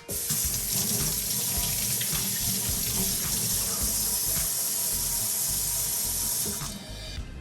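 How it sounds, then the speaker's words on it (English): Tap water runs into a sink for a quick rinse, a steady, close splashing gush that continues evenly for about seven seconds before tapering off as the flow stops. "a little quick rinse"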